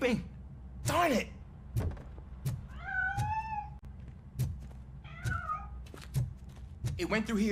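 A cat in the RoboCop video game gives several distinct meows, each a short wavering cry, spaced between sharp clicks and thumps. The sounds are close and mid-loud against a low droning game background.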